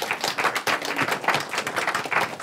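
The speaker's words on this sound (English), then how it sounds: "So let's just applaud them." An audience claps for a group of young people at a challenge event. The applause is close and lively, with individual claps in an irregular, pulsing stream, and the clapping stays loud with almost no talk.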